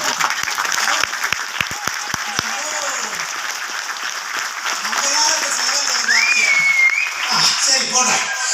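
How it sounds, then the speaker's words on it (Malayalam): A crowd of people clapping together, a continuous fairly loud patter that runs throughout, with talking voices mixed in over it. "ഇതാണ് നന്നായിട്ടുള്ള ക്ലാപ്പ്."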